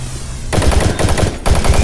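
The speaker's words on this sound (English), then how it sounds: "We get a machine gun." Machine gun fire in the video game Doom 3, loud close bursts of rapid rattling shots after a brief quiet start, with a short pause midway before the firing resumes.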